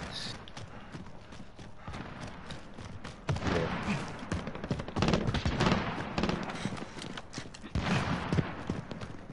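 Sniper rifle rounds in a console shooter crack out as a rapid string of sharp, moderately loud shots, some clustered and some spaced, over a steady game background.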